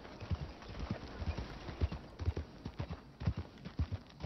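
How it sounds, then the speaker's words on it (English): Horse hooves clack on pavement in the Red Dead Redemption 2 video game, a steady, close rhythm of sharp clip-clop strikes at an even pace throughout. "I love the sound of the horse clacking on pavement."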